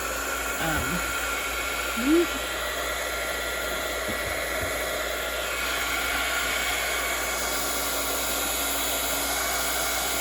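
A dryer blows a steady, loud whooshing hiss throughout, drying layers of stamped ink on paper, with a faint brief background sound but no clear talk.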